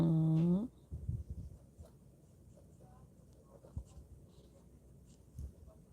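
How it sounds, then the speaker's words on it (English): Pen writing by hand during an English grammar lesson, with faint scratchy strokes in irregular bursts after a brief sung or hummed voice at the start, quiet and close. "let me write"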